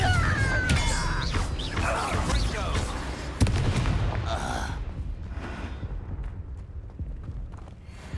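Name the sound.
Confringo fire spell explosion, Hogwarts Legacy video game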